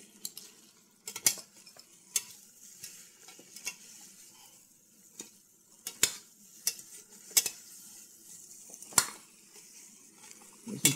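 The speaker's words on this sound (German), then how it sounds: "Da geben wir jetzt ein bisschen Tomatenmark dazu und rösten das mit an." Tomato paste roasting in a pan while being stirred, with repeated sharp utensil scrapes and clinks against the pan over a low, steady sizzle, close and alone.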